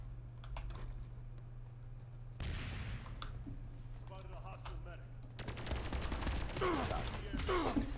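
Rapid automatic gunfire from TR forces shooting at VS in the Planetside 2 video game, bursts of distant and nearer shots rattling over game ambience, growing busier toward the end.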